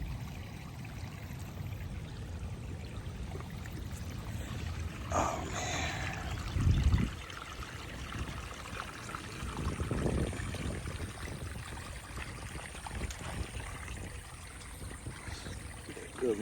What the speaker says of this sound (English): good running water